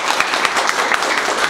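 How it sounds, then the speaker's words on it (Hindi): Dense applause from a seated class audience in a mobile phone repair training session, a steady wash of many hands clapping at close range with no clear break across the stretch. "एक बार जोरदार ताली बजाओ।"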